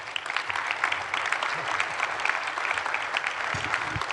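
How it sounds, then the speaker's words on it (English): Steady applause from a conference audience at a summit keynote fills the whole stretch, dense clapping at an even, moderate level with no voices standing out. "One more round of applause for Bernie Marcus."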